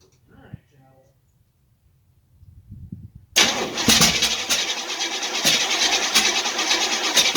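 A Chevrolet Nova with an uncertain carburetor goes quiet for a few seconds, then its engine catches and runs loud and steady, with brief low mumbling of a voice beforehand.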